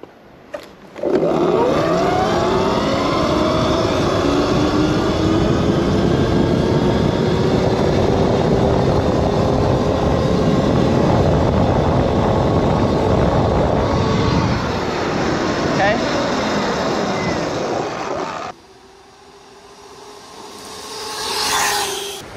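A Sur-Ron electric dirt bike accelerating hard in a speed test, with a loud sustained whine rising in pitch as it gains speed for about seventeen seconds, then cutting off abruptly, followed by a quieter passing rush.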